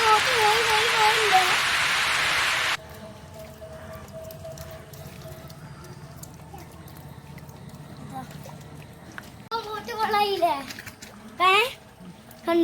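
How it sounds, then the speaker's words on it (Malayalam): Heavy rain hisses loudly for the first few seconds while someone speaks, then it drops away to a quiet background with scattered voices. "മഴ"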